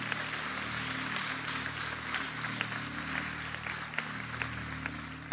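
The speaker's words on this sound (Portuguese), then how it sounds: "Para Jesus, aplauda de verdade" A large conference crowd claps steadily at a Christian conference, a soft, distant wash of applause lasting several seconds with a few sharper claps standing out.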